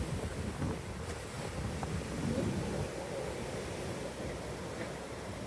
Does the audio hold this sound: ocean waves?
yes